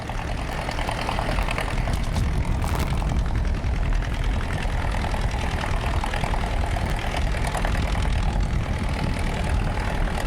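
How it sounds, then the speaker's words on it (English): A big John Deere pulling tractor roars at full power during a truck and tractor pulling competition, a loud, dense, continuous engine blast that holds steady throughout with no talk over it. "he throws the power to the big John Deere"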